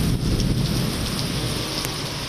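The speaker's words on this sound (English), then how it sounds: "thunderstorms returned Thursday afternoon, once more bringing heavy rain" Heavy thunderstorm rain in Springfield pours as a steady, loud, dense roar, with a low rumble of thunder underneath throughout.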